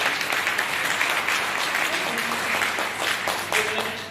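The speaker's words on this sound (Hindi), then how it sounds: "मैं चाहूंगा एक बार जोरदार तालियां होनी चाहिए।" Audience applause at a wellness network-marketing event, a dense, continuous burst of clapping from a crowd, loud and steady for several seconds with a few voices underneath.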